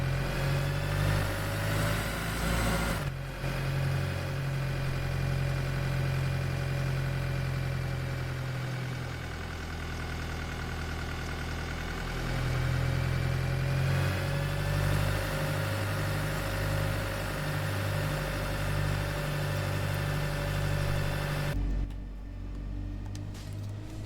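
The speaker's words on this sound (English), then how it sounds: "Bit of external engine sound action for you." A bus engine in the OMSI 2 bus simulator game idles with a steady low rumble and hum, briefly rising and settling in pitch, then cutting off abruptly near the end.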